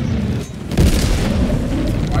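A deep explosion booms as a base is destroyed in the video game Helldivers, a loud low blast swelling partway through and rumbling on to the end.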